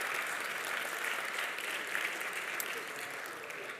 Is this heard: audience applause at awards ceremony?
yes